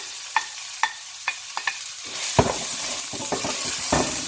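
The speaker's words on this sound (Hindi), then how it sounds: "अब इसमें अनियन, ग्रीन बेल पेपर और गार्लिक ये डाल देंगे।" Chopped onion, green bell pepper and garlic hitting rice frying in a pan for Mexican rice: a few sharp utensil taps, then a burst of louder sizzling with scraping stirs.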